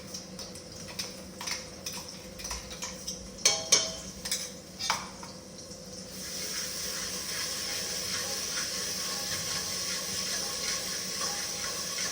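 Two spoonfuls of finely ground spice paste go into hot oil for a cauliflower dish. Some light clicks and taps of stirring come first, then a steady, close sizzle carries on alone.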